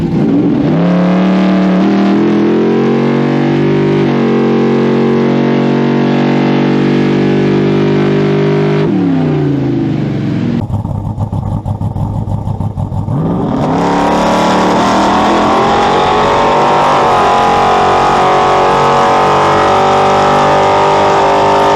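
A drag race car at street drags roars through a full pass, the engine revving hard and climbing through gears, loud and close for the whole run, with a brief dip and rise mid-pass.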